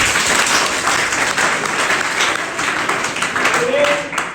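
Students in a school classroom during a spiritual motivational lecture break into loud, dense clapping that holds steady throughout, with some crowd murmur mixed in.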